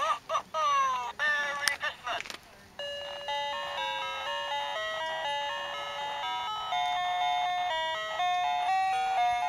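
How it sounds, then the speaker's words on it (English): Bells chime a repeating melodic pattern of clear, sustained tones on a golf outing, ringing loudly and steadily after a brief burst of noise at the start. "Ring those bells."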